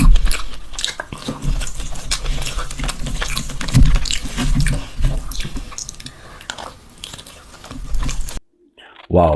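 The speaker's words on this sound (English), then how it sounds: "I love the way they eat, the way they chew the food, the sound" Close, wet chewing and biting on spicy mutton mandi with sauce, a dense run of smacking and crunchy mouth sounds that fills the clip before dropping out near the end.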